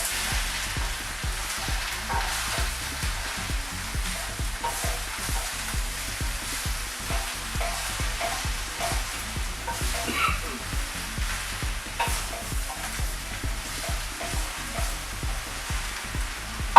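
Vegan stir-fry, part of a Thai coconut curry dish, sizzles steadily on a stir-fry plate. Dense, even crackling and hissing runs throughout, close and fairly loud, with no voices over it.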